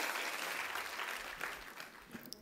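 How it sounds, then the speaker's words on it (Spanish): Steady applause from an audience at a children's song performance, a dense wash of clapping that fades slightly toward the end, with a few isolated louder claps near the close. "aplaudan con gusto."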